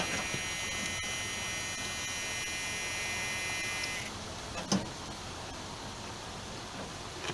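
An electric car power window motor buzzes steadily as the glass travels one way, stops, then whirs briefly with a thump in the other direction, fairly quiet and close in a garage.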